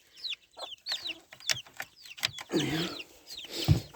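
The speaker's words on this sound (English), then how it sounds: "Good morning, Mrs. Chicken." Chickens cluck on a frosty farm morning, several short clucks and squawks close by in an irregular rhythm, with one brief spoken word and a low thump near the end.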